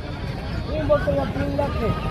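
Goats at a Rajanpur livestock market bleat in several short wavering calls, including a large male goat, mixed with steady crowd babble and nearby voices talking.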